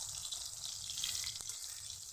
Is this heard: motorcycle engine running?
no